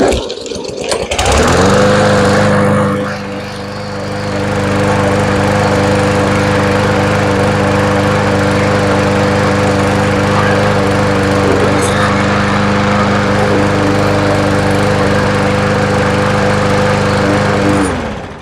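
A Briggs & Stratton E Series lawn mower engine starts up and runs close by, a loud steady droning putter that holds throughout, briefly pulling down once before settling.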